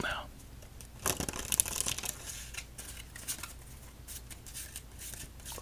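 Close, crisp crinkling and tearing of wrappers as pieces of cinnamon gum are unwrapped, irregular rustling bursts over a quiet background.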